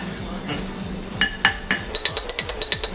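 A spoon stirs pickled tuna escabeche, ringing against a glass or metal container in a quickening run of sharp, close clinks after a softer start.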